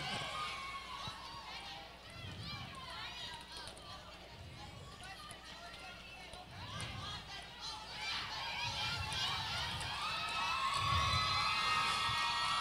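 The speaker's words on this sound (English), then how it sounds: "Great job by Mayhem as the crowd goes wild up in turn number 3." A crowd at a roller derby bout chatters and cheers from a distance, growing louder toward the end, with a voice talking over the noise.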